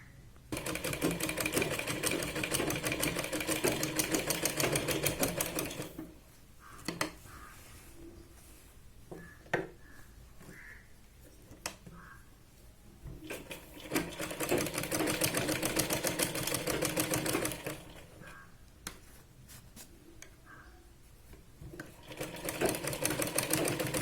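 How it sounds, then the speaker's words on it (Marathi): A sewing machine stitches a Punjabi dress in bursts of steady rapid clatter, running for several seconds, pausing, then starting again, close and fairly loud with quiet gaps between runs and no voice over it. "तर आधी जे आहे ते आपण अशी इथे शिलाई लावून घेऊया."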